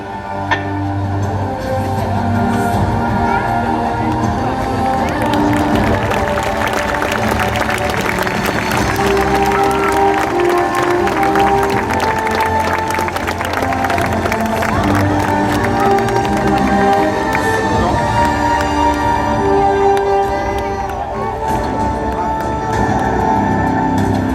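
Audience at a Paris fire brigade fire rescue simulation applauding and cheering loudly, sustained dense clapping with whoops and crowd noise throughout.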